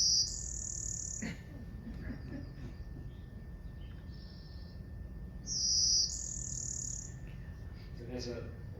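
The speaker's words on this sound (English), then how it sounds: "It has a long trill after a buzz, and it's varying. This is just the first one. This is a blue-winged warbler species" A blue-winged warbler sings outdoors, a thin high buzz trailing into a longer trill, repeated twice over a steady hiss of insects and faint background birdsong.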